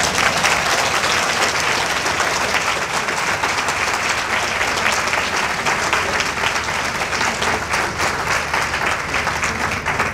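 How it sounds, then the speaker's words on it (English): An awards banquet audience claps in sustained, dense applause that stays loud and even throughout, with no voices standing out. "Let's give Imam Tyree El-Amin another round of applause."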